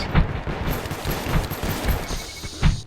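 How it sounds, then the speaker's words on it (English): Bursts of AK rifle fire from the video game Space Station 14 rattle out in quick volleys, loud and close, with repeated sharp shots spread across a couple of seconds. "Warden got some good shots off with the AK"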